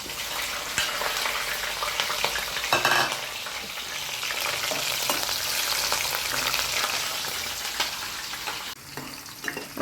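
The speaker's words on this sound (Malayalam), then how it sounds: "ഇനി നമ്മൾ വെളുത്തുള്ളിയും ഇഞ്ചി ചതച്ചതും പച്ചമുളകും കൂടി ഇടുവാണ്" Garlic, crushed ginger and green chili sizzle and fry in hot coconut oil for a mango pickle, with steady crackling, stirring scrapes throughout and a brief louder burst of spattering near the start.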